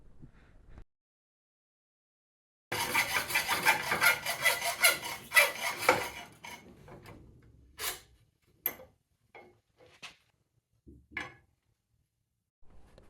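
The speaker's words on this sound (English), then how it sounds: "I began by cutting the top crankcase in half" The top crankcase of a two-stroke engine is cut in half, heard as a close, steady rasping saw stroke for a few seconds, then scattered short scrapes and taps separated by silence.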